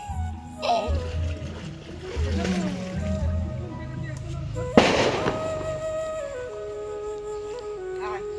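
A child swimming in a pond sends up water splashes, with one sharp, loud splash midway among softer sloshing, while people talk nearby.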